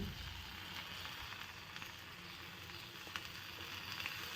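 Oil sizzling on a thin-batter paratha with potato slices and sesame in a pan, a faint, steady crackling hiss with tiny pops scattered throughout.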